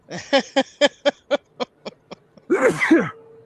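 A run of quick, sharp breathy bursts fades in strength, then one loud full sneeze bursts out at the end.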